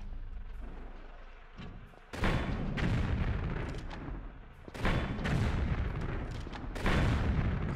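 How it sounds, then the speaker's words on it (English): Rocket launcher fire in Tomb Raider III, the 1998 PlayStation game: three heavy, loud booming blasts spaced a couple of seconds apart, each followed by a rumbling tail, with no talk. "rocket launcher isn't as effective as I thought it would be"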